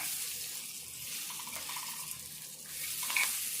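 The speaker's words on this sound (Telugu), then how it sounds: "ఈ కొత్తిమీర కూడా మంచిగా ఫ్రై కావాలి." Chopped coriander sizzles and hisses steadily with bitter gourd in a hot frying pan, a continuous close crackle with faint scraping as the mix is stirred, no voices.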